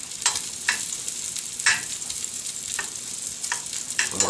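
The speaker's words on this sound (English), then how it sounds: "Bacon, cook it just the way you like it." Bacon crackles and sizzles in a frying pan, a steady hiss broken by sharp pops and scraping stirs every second or so, close and alone with no voices.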